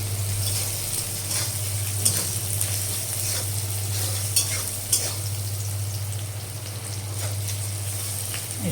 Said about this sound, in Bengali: টমেটোর কুচোগুলো অ্যাড করে দিলাম। তো টমেটোগুলো একটু নরম হয়ে যাক,